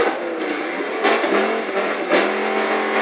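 A Dodge Viper engine roars as it accelerates out of a corner in the racing video game PGR 4 around London, a loud continuous revving drone with brief surges and no talk.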